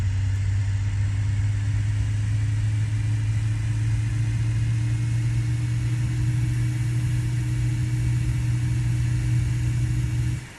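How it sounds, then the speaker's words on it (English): Jet engine startup of a Leonardo MD80 airliner in Microsoft Flight Simulator 2020: a steady, loud low hum and rumble with a faint higher whine, holding evenly throughout before cutting off at the end. "Without the sound pack, these engine startup sounds are non-existent."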